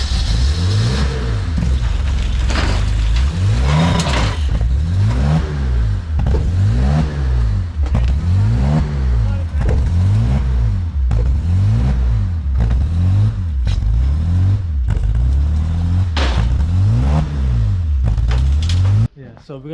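Abandoned BMW 850CSI Alpina V12 engine being started, cranking in a rhythmic, repeated churning pattern for many seconds, loud and close, with voices and some clatter around it.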